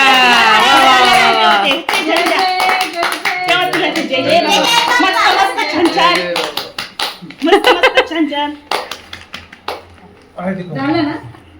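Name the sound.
hand clapping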